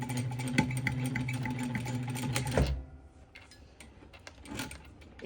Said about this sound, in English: I had a few problems with my machines yesterday, and I'm wondering if it's sewing right now